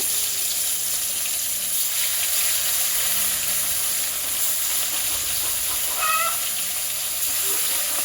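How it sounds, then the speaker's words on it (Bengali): Katla and puti fish frying in hot oil, a steady broadband sizzle and hiss running unbroken throughout at moderate loudness, with faint clinks partway through. "এটা তো মাছগুলোকে ভালো করে ভেজে নেব"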